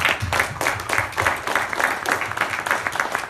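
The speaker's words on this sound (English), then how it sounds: "and a big applause, please" Audience clapping at the Flushing World's Fair Expo in a Sheraton Hotel, a loud, close burst of rhythmic claps with some low voices mixed in.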